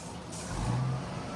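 A CFS tanker truck's engine gives a brief, low, fairly quiet rumble that swells slightly midway, with a soft airy hiss above it.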